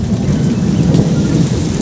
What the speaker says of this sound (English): But we got a storm rolling through.